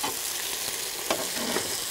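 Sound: potatoes frying on a sadj pan

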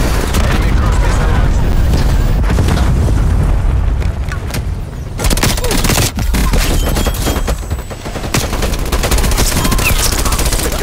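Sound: cruise missile strike and gunfire in video game Call of Duty Cold War

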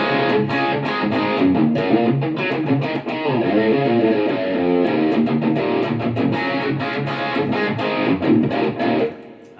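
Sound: electric guitar with distortion and reverb

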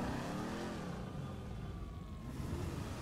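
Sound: Stafford car engine revving in the video game GTA 5

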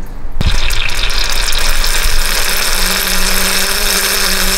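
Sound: coolant leaking from Chevy lower radiator hose

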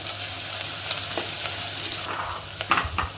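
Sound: onions sautéing in a pan for vegetable biryani

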